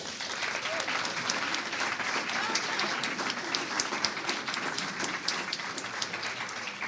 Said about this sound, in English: a cheering for people who have accomplished doing a PechaKucha